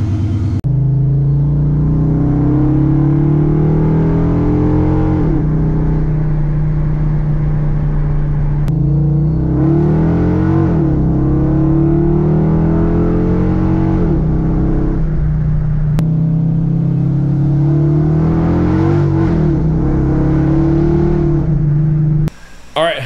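A Hemi-powered car fitted with a Holley Sniper race intake manifold, out on a test drive. The engine drones loud and steady from inside the car and rises and falls through repeated accelerations and gear changes.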